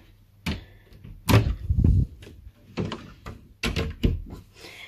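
A nursery wardrobe door being closed, with a few muffled thumps and knocks of wood as it swings and settles shut.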